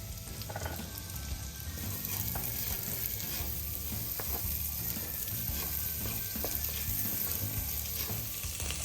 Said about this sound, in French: quand le beurre commence à fondre et à chanter, je fais suer les échalotes